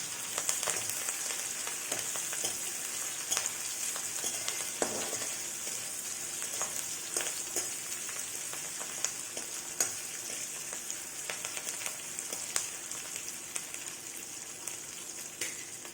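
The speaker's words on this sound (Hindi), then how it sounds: "अब हम इसमें हरी मिर्च डाल देंगे और कड़ी पत्ता, इसे हम मिक्स कर देंगे।" Green chillies and curry leaves hit hot oil for makai chivda and are stirred. A continuous, close crackling sizzle carries scattered pops and scraping stirs for the whole stretch, with no talking.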